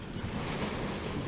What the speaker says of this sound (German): Jetzt kommt eine Welle, jetzt spritzt.